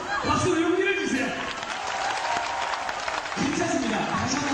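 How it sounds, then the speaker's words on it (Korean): A church congregation claps together during a spring revival service, steady applause running under a voice speaking over it. "여러분, 박수로 용기를 주세요."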